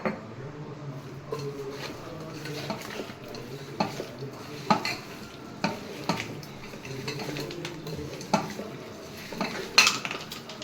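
A spoon stirs and scrapes through chicken biryani in a metal pot while home-made coriander powder is mixed in, with repeated clinks and knocks against the pot over a low background murmur.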